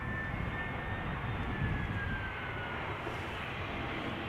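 Air Arabia Morocco airliner arriving from Tangier at Schiphol Airport, a steady broadband jet roar holding even and moderately loud throughout, distant and unbroken with no voices.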